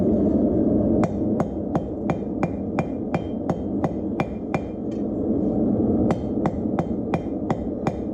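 A hammer strikes hot metal on an anvil while a blacksmith forges a leaf, a steady run of sharp ringing blows over a low roaring background hum, with a short pause partway through.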